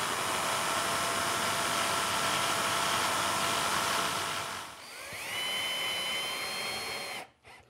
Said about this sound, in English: Now using my jigsaw